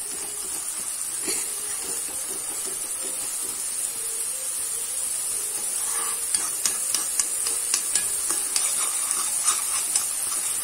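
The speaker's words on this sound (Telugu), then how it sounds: "బాగా ఫ్రై అవనివ్వాలి. గోల్డెన్ కలర్ వచ్చే వరకు ఫ్రై అవనివ్వాలి ఆనియన్" Onions frying in oil until golden for homemade onion oil hiss steadily with a constant bubbling sizzle, while a utensil stirs and taps the pan in quick repeated strokes toward the end.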